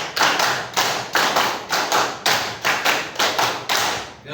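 A group clapping together in a counted rhythmic pattern during a classroom session, sharp unified claps in bursts that grow in number, each crisp strike separated by short pauses and heard alone without talk.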